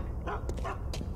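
Dogs barking in the game Geist, a quick pair of sharp yips and barks over a low background rumble, close and fairly loud.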